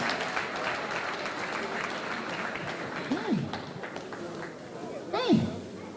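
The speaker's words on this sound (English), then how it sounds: "Celebrate them with a round of applause." Crowd applause at a celebration honoring people starting their careers, continuous clapping mixed with loud voices and rising cheers or whoops from the audience.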